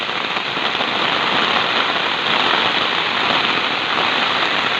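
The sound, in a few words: heavy rain falling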